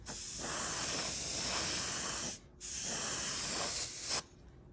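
Light coats of paint are sprayed onto a Bandai 1/500 Space Battleship Yamato model kit. Two long, steady hissing bursts sit close by, separated by a short pause, and the second cuts off abruptly.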